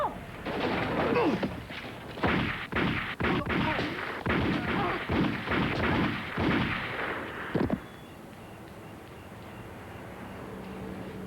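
A rapid volley of gunshots rings out in a 1995 French television drama, loud, sharp reports in quick succession for several seconds before ending abruptly into a quiet background.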